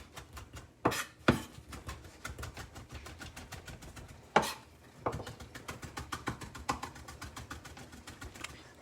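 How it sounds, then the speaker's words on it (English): Fresh thyme and tomatoes chopped with a knife on a cutting board while making seafood risotto: quick steady knife taps, close and crisp, with a few heavier thuds, no talking. "I'm gonna chop my fresh thyme and my"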